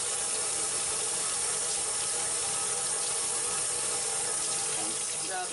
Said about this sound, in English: Okay, now I could just hold it under the water